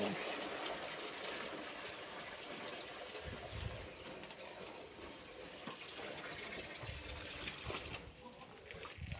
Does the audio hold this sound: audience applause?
no